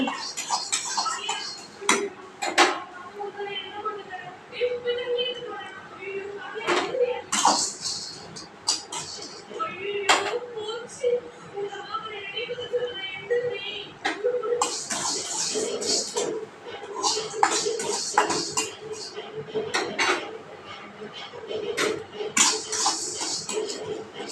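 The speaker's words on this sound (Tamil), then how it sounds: "சிம்மில் வச்சே தான் வறுக்கிறேன் பருப்பையும் எடுத்துட்டேன் அப்போ கடலைப்பருப்பு" Chana dal roasting in a pan over a low flame, a spatula scraping and clinking against the metal in an uneven stream of light taps, with a voice faintly at times.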